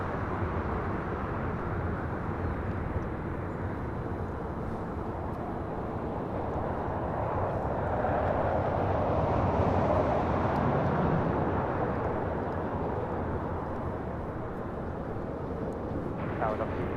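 A United Airlines Boeing 737-900ER takes off from LAX, a broad, sustained engine roar that swells slightly midway and continues steadily. It is heard from a spotting position, with voices talking over it.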